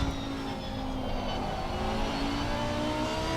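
GT3 race car engine at Laguna Seca in a racing simulator, a steady, loud, aggressive drone with rising harmonic lines as it revs, continuous and close with no talk.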